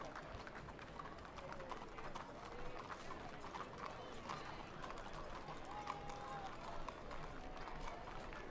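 Horses of the Massachusetts National Lancers mounted military unit clip-clopping along a Fourth of July parade route, a steady patter of hooves under constant crowd noise and an announcer's voice.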